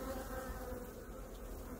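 Dense, continuous buzzing of many honeybees inside a hive, a steady droning hum without breaks.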